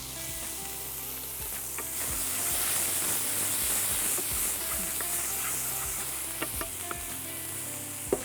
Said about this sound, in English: Once this is sauteed well, time to add some chopped onions